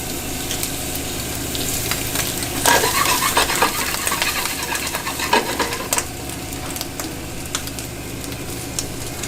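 Butter sizzles in a hot frying pan while meat sears for a Mexican dish, a steady crackling hiss with scattered stirring scrapes and clinks throughout, close and fairly loud.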